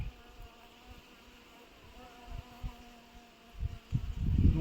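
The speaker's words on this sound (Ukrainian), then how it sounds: "дуже багато бджоли" Dense buzzing of many honeybees close by at a hive, a steady insect hum that swells louder toward the end with some handling noises.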